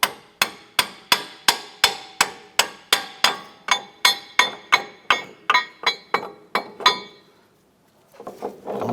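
A hammer strikes the strut clevis fork on a 2004-2008 Acura TL: about twenty sharp, ringing metallic blows in a steady, even rhythm, then a short pause and faint handling noise.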